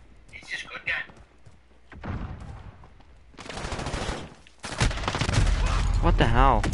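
Gun fired in the Modern Warfare video game, a burst of loud shots and heavy thumps building toward the end, close and dense, with someone talking throughout.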